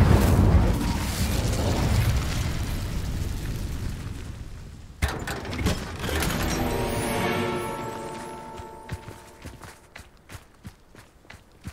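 An Incendio fire spell cast in Hogwarts Legacy, heard as a loud roaring, crackling rush that gradually fades and gives way to sparkling tonal chimes and scattered sharp ticks.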